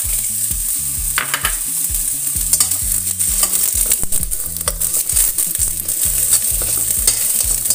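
Crushed garlic, ginger and shallots sautéing in oil in a wok give a constant loud sizzle, broken by repeated rhythmic scraping and knocking of a spatula against the metal, with no voices.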